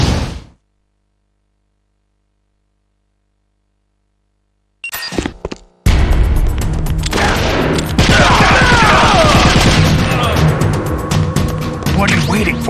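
Gunfire in the video game Metal Gear Solid: The Twin Snakes, with a dense, loud barrage of rapid shots and clatter erupting after a brief silence and continuing steadily to the end.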